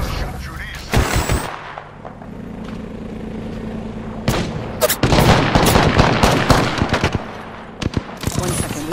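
Gunfire in the video game Apex Legends, with single shots, then dense automatic bursts and sustained rattling fire, loud and close over a rumbling battle background and some voices.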